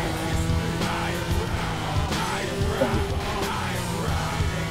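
A voice imitates a Formula 1 car shifting gears, with revving, whining tones that rise and drop repeatedly over a noisy racing-game car soundtrack, loud and close.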